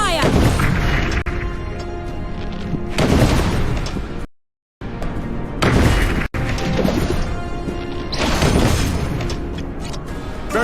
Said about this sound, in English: Soldiers ready. Fire!